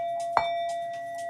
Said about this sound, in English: I can ring the bell very quietly.